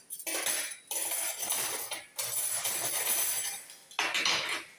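Metal forks clatter and clink close up as they are sorted in a kitchen drawer, in several bursts of rattling cutlery separated by brief pauses, with no talking.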